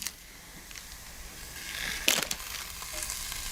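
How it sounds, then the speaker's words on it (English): Raw prawns sizzle in a hot pan, a soft steady frying hiss with a few brief crackles and a louder burst of spitting midway, close and without talk. "I'm just kind of cooking the prawns till they're just very slightly pink"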